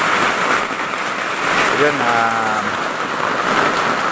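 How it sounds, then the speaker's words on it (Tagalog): Heavy storm rain pours steadily on a farm during a low pressure area, a dense continuous wash throughout, with someone talking briefly over it midway. "Hanggang ngayon ulan pa rin, no? Parang may bagyo siguro."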